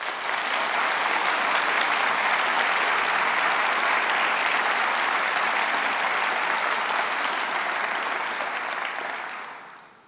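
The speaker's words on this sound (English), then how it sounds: "they deserve a big round of applause" A large conference audience at the Conservative Party Conference breaks into sustained, loud applause, a dense steady roar of clapping that holds for about nine seconds before tailing off at the end.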